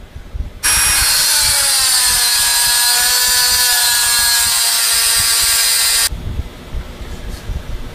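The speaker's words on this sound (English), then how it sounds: "We're going to use the Dremel wheel to cut along that line." A Dremel cutting wheel grinds through the outer race of a Bosch alternator bearing, making a loud, piercing, continuous whine that holds steady for about five seconds and then cuts off abruptly.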